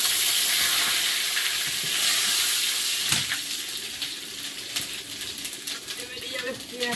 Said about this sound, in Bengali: এদিকে কচু তো ভাজা হচ্ছে তেলের মধ্যে পাঁচ ফোড়ন বাড়ির গাছের তেজপাতা